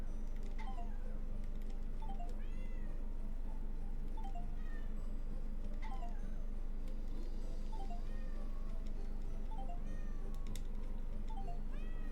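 Cats meow repeatedly in a video game, with short mewing calls recurring every second or two over a steady, dense background ambience and no talk.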